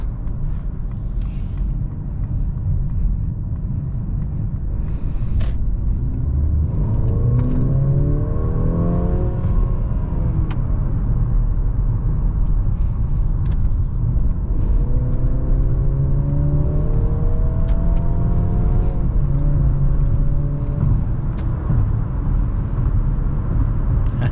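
A 2022 Mercedes C-Class engine revs up in rising sweeps twice over a steady road roar, heard from inside the cabin at highway speed.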